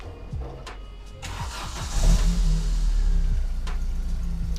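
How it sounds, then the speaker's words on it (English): An Opel Calibra, sitting unused for nine months, cranks over and its engine catches, settling into a steady rumbling idle; loud and close, with no talking. "I'm really impressed that the car started."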